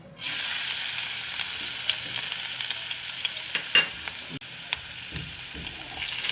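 Garlic frying in two to three spoons of oil in a pan for restaurant-style chilli paneer, a steady close hiss of sizzling with a few faint clinks and stirring knocks throughout.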